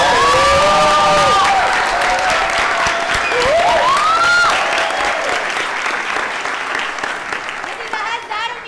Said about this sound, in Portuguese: Palmas para nossas estrelas.